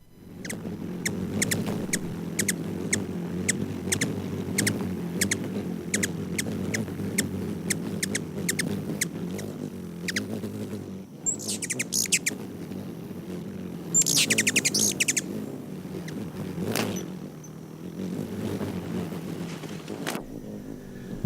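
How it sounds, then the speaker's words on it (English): A continuous low whirring buzz of a ruby-throated hummingbird's rapidly beating wings, with occasional high squeaky chirps and outdoor background noise throughout. "that's our ruby-throated hummingbird's wing flapping, which is very fast"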